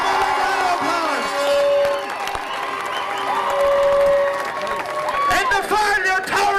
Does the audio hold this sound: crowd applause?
yes